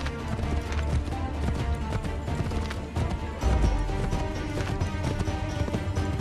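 Hooves clatter in a steady galloping rhythm as a horse runs in the video game Assassin's Creed 3, loud and continuous over a dense bed of game music and ambience.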